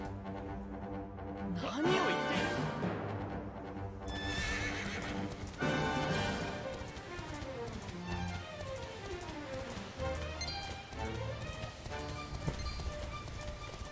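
A horse in Dragon Quest XI neighs loudly with a long whinny, then its hooves clip-clop steadily at a gallop, accompanied by a few further snorts over a sustained game soundtrack.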